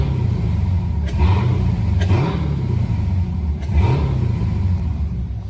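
A 2019 Dodge Challenger R/T Scat Pack Widebody with a throttle controller in Sport Plus mode accelerates hard. A loud, close engine roar rises in pitch in repeated surges, with brief breaks between gears and no talking.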